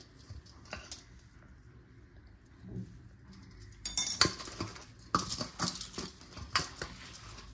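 Utensils clinking against a bowl while food is mixed in a kitchen, with sparse light taps at first, then a busier run of scraping and clinks up close.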